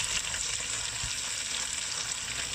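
Chopped onions go into a hot frying pan for a dish of sautéed spinach with peanut paste, giving a steady, dense sizzle that holds evenly throughout with no voices.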